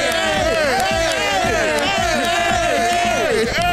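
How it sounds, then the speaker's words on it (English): A crowd at a live speedrun event for Streets of Rage cheers and whoops over loud voices and babble, with chatter layered over the noise. "Round of applause for you."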